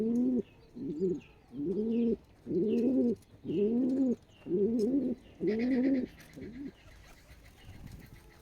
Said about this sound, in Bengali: পায়রা বসে ঘু ঘু ঘু হতেছে